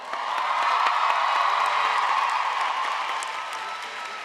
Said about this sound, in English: why don't we clap real loud and just shake New Jersey?